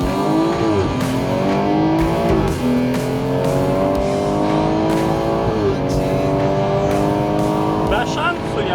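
An M car and a DCT-equipped car accelerate side by side in a drag race, loud engines revving and shifting through rising gear sweeps with brief breaks between gears, while a voice talks over the run.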